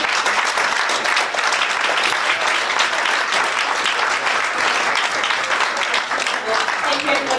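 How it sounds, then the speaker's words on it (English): Audience applause at an International Women's Day event held by an Asian business chamber of commerce, steady, dense clapping filling the room with a faint voice beneath it. "Another round of applause just to say thank you very much for very much."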